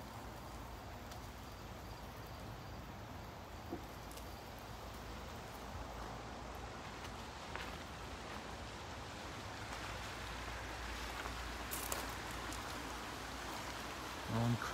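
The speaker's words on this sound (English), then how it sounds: "Long creek" A long creek or irrigation ditch running through an RV park gives a steady, even rush of flowing water, a continuous broadband wash with faint occasional knocks.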